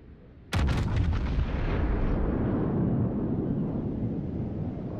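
Heavy naval guns of the battleship Musashi fire on a cruiser in a warship video game, one sudden booming salvo with several sharp cracks that rolls into a long, loud rumbling decay.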